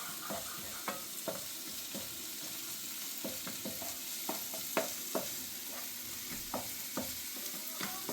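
Egg noodles are stirred in a pan over a low gas flame, giving a steady soft sizzle punctuated by regular light scraping and clinking strokes of the spoon, close and alone.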